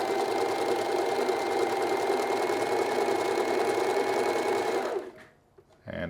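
An Alfa Practik 9 sewing machine stitches steadily up close, its fast rhythmic needle chatter and motor hum holding for about five seconds before cutting off, followed by a brief handling noise.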